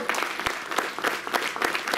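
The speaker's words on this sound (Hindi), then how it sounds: "सुनीता जी, उनके लिए भी जोरदार तालियां।" Audience applause at an Indian award ceremony honoring constitution campaigners, a moderate, uneven burst of clapping from a seated crowd with distinct individual claps standing out, heard at some distance.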